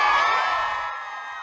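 A crowd cheers and whoops as a Pride flag is raised in Nose Creek Park, Airdrie, Alberta, during the town's first Pride event. The broad roar is loud at first, then fades slowly over a second and a half.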